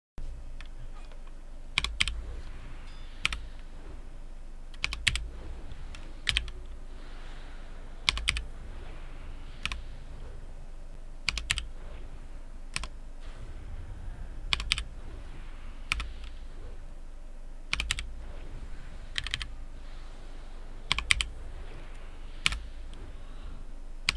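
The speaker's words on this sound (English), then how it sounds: "I will also record the sound of my keys so you can hear the timing of" Keys on a computer keyboard are pressed in a World of Warcraft Season of Discovery seal-twisting rotation, sharp clicks in irregular clusters and single taps spread across the stretch, close and fairly quiet with a low background hum.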